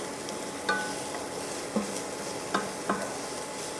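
Ground beef and pinto beans with cumin and garlic powder sizzle steadily in a pan while a spoon stirs, making four distinct scraping knocks against the pan over a continuous frying hiss.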